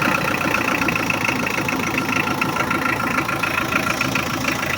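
A Hyundai Porter with a D4BH diesel engine runs steadily, a close, loud, continuous mechanical drone and clatter with no clear rise in revs.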